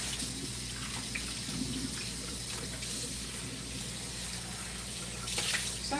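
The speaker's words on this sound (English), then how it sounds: "Cleaning up my dishes here" Tap water runs steadily into a kitchen sink while dishes are washed, a continuous close hiss and splash with faint clinks and no talking.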